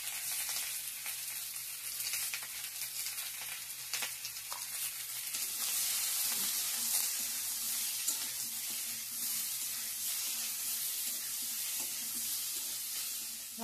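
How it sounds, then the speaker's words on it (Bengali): Masala seasoned with salt and turmeric fries in a pan with a continuous, bright hiss and crackle, fairly faint and steady throughout, with occasional stirring scrapes and no talk. "ভালো করে ভাজা ভাজা করে নিই"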